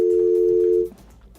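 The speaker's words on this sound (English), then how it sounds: "We lost the call?" A telephone dial tone sounds on a radio call-in line after the caller drops, a steady electronic hum lasting under a second before it cuts out to near silence.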